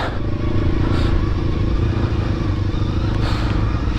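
A motorcycle rides along trails with a steady, loud engine drone up close. Clattering and light thumps come through as it passes over the rough ground.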